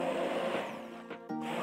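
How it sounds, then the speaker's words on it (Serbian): An immersion blender whirs steadily while pureeing a roasted pumpkin and vegetable soup, the motor pitch dipping and briefly cutting out before resuming, fairly faint and with no talking. "Usitnite povrće štapnim mikserom."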